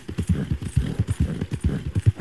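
Horse hooves gallop in a steady, rapid clip-clop rhythm in the Red Dead Redemption 2 video game, loud and close with no talk over them.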